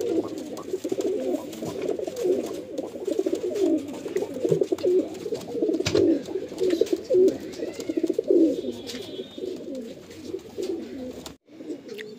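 Kalanka pigeons coo repeatedly and close by in a continuous, overlapping series of soft throaty calls, with occasional faint rustles and clicks, and no talking.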